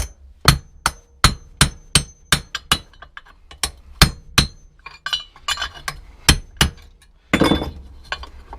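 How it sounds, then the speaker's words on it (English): A hammer strikes a steel chisel wedged beneath a bent-crankshaft part of a Briggs & Stratton engine on a Viking lawnmower, about a dozen sharp ringing metallic blows in an uneven rhythm, close and loud, then a scuffle. "I've got that chisel, so I've used the chisel to put that underneath."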